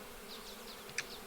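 Bees in the video game APICO buzz softly in a brief, faint, wavering drone, with a small sharp blip near the end.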